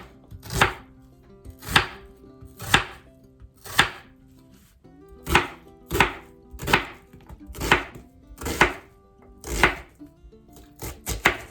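A knife chopping a sweet onion on a cutting board, a steady series of about a dozen sharp, close thwacks evenly spaced around a second apart, with no talking.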